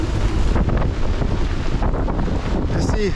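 Storm wind and rising waves at sea around a sailboat heading toward Norway: a loud, continuous roar of gusts and surging water buffets the microphone close up throughout.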